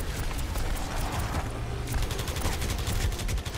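Rapid enemy gunfire in the video game Overwatch, dense bursts of automatic shots crackling continuously and loudly through the whole stretch over a low game soundtrack.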